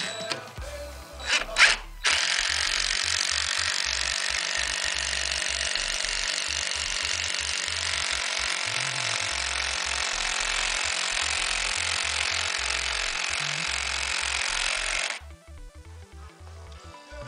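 An impact driver with a hex-head bit drives screws into a wooden gate hinge: after a few brief clicks, a loud, continuous hammering whir runs for about thirteen seconds, then stops abruptly, leaving quiet handling noise.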